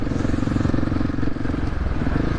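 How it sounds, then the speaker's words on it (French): A Husqvarna 701 supermoto engine thrums steadily and close, with a dense low pulsing drone under wind rush and no clear break or shift in the tone. "Rétrograder une vitesse parce que sinon je tremble"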